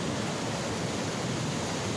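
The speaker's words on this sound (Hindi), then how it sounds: "इतना रौद्र रूप है काली नदी का, आवाज भी आपको बहुत शानदार तरीके से आ रही होगी।" The Kali river below a cliff in the Himalayan foothills on the way to Adi Kailash and Om Parvat, a loud, steady broadband roar of rushing water filling the whole moment with no speech.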